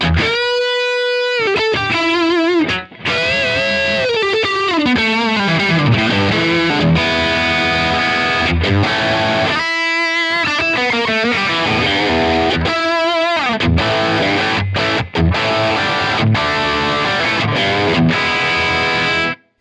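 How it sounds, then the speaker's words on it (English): Heavily distorted electric guitar through a Strymon Iridium amp and cab simulator pedal, drive turned all the way up, plays sustained chords and bending lead lines, loud and saturated, with a few brief pauses between phrases. "If we turn the drive all the way up, we'll get to those hot-rodded high-gain tones."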